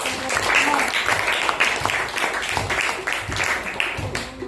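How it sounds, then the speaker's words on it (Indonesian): Students in a classroom clap for a group of classmates, a dense, steady round of applause lasting the whole stretch with some voices mixed in. "beri tepuk tangan untuk kelompok 3"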